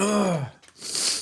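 A single sharp sneeze bursts out after a brief vocal intake, ending in a breathy hiss.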